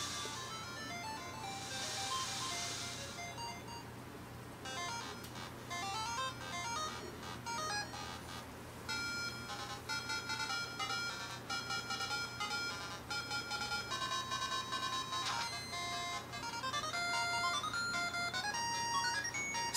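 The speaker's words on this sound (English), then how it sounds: "Listen to the actual speakers of the Game Boy Advance SP." Link's Awakening game music and effects come from the small built-in speakers of a Game Boy Advance SP, thin beeping chiptune melodies with short blips and jingles that play steadily and fairly quietly, with no talking.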